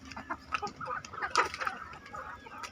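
A flock of thirteen chickens clucks, with soft irregular clucks and brief calls at moderate distance and no one talking.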